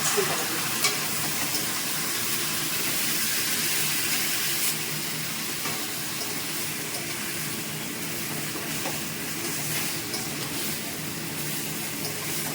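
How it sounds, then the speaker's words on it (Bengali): Black pepper powder and ginger paste sautéing in a pan, a steady continuous sizzle with soft stirring scrapes running throughout at close range, no talking. "আর দিচ্ছি গোলমরিচ গুঁড়ো আদা বাটা দিয়ে কষিয়ে"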